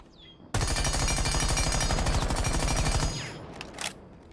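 Rapid automatic gunfire at a shooting range in a video game, one sustained burst of closely spaced shots lasting a few seconds, then a couple of faint mechanical clicks.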